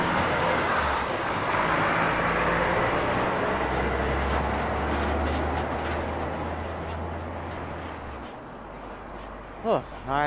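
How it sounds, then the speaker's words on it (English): A big truck rumbles past on a narrow road between Claxton Bay and Brechin Castle, a loud low engine drone and tire roar close by that swells and then fades, with a brief voice near the end. "Oh, big truck."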